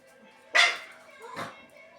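A dog gives a sharp bark followed by a second, softer bark-like yelp about a second later, fairly close, over a faint background hum.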